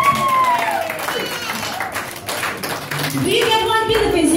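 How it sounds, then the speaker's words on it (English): An audience in Eastbourne gives a round of applause, clapping and noise rising under a host's voice, with bright pinging tones near the end. "let's give a round of applause and noise for the One Philippines"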